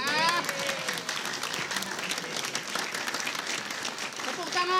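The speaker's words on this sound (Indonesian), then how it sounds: "Tepuk tangan untuk leher dan dasi." A studio audience at an Indonesian comedy quiz show applauds in a steady, moderately loud patter, with a voice speaking briefly over it at the start and again at the end.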